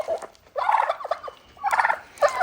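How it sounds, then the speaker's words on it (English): Turkeys gobble in several bursts of rapid, warbling calls, close and fairly loud, with brief quiet gaps between them. "the turkeys are aggravating Kelsey today."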